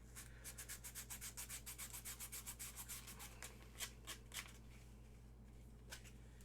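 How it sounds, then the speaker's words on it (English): A Star Wars tank trooper armor part is sanded by hand, a quick even series of rasping strokes followed by a few slower, scattered passes, close and fairly quiet over a low steady hum. "we'll finish up sanding this a little bit tonight"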